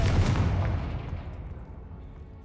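A Confringo fire spell from the Hogwarts Legacy video game goes off as a loud, close blast with a crackling burst that rolls away over a couple of seconds, alone without speech.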